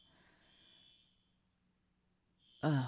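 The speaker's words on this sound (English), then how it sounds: "We have had a problem with this alarm for quite some time." A neighbors' alarm sounds at a distance as a steady buzzing tone that stops partway, returns near the end and is cut off by a sudden loud burst.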